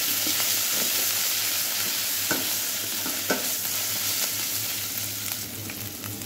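Garlic and ginger fry in a pan for mutton pulao, a steady close sizzle running throughout with occasional scraping stirs.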